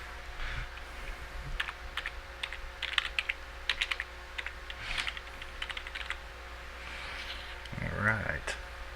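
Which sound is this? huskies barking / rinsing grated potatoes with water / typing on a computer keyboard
typing on a computer keyboard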